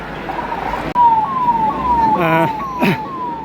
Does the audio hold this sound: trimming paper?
no